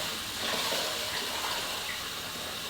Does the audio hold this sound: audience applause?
no